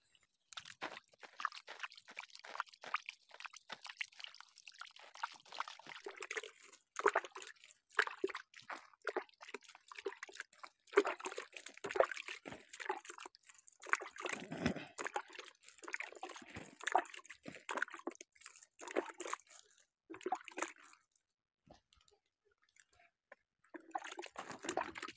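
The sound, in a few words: cow dung water being sprinkled onto compost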